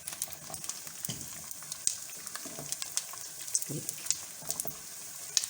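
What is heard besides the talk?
flour mixture frying in pan for gur papri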